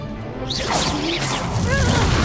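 Expulso spell cast in the Hogwarts Legacy video game: a loud magical whoosh and crackling burst, with swishing sweeps and a lingering resonant tail, no voices.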